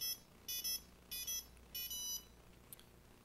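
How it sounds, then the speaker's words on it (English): A Cheerson CX20 drone's ESC gives short high electronic beeps, three clear tone bursts in a row, with a brief faint chirp after, alone and fairly quiet. "if I move down once, it should just beep like that"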